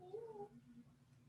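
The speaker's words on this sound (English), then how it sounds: "this is the kitty that high maintenance kitty" A cat gives one short, rising meow up close in a quiet room, followed by a faint low murmur.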